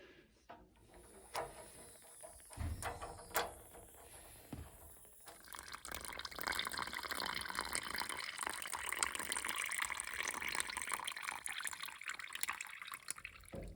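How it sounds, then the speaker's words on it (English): Water rushes out of an opened radiator drain or vent during a radiator replacement, a steady full-flow gush that swells after a few early clinks and knocks and keeps pouring loudly. "You have to remove the vent or the drain off pin for it to come out full flow."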